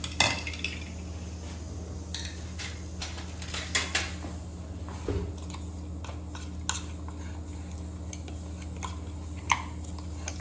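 A metal spoon scrapes and stirs sticky, dry vada pav potato filling stuck to the sides of a cooking pan, giving intermittent clinks and scrapes over a steady low hum, with no one talking.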